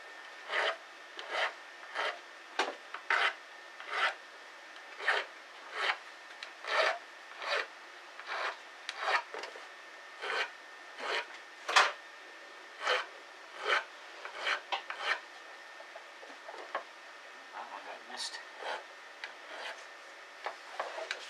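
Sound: oil stone rubbing on guitar fret ends

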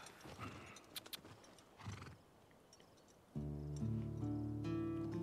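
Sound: horses neighing and clip-clopping in The Last of Us Part II video game

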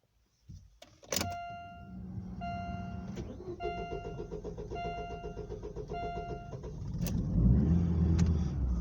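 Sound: Daewoo Lanos car engine starting

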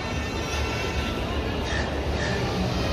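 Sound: train

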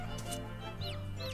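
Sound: chickens clucking in the video game Summer in Mara

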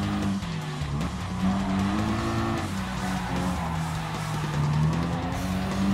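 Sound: race car accelerating, Gran Turismo Sport video game

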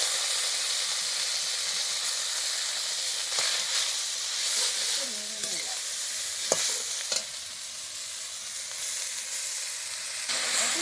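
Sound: washed greens frying in hot oil with dried chili and garlic

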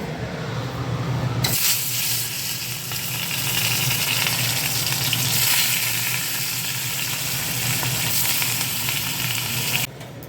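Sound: fish and prawn legs frying in oil

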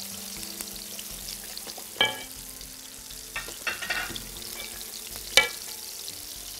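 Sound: stirring sauce with yogurt and starch in a pot

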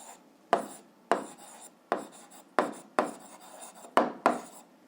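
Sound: writing by hand on paper

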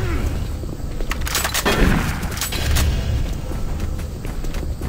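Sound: gunshots in video game Doom 3

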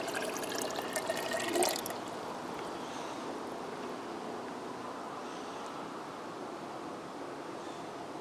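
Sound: water poured into a shallow well pipe

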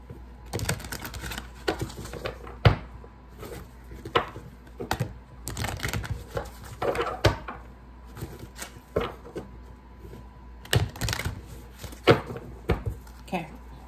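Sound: shuffling an Archangel Michael oracle card deck

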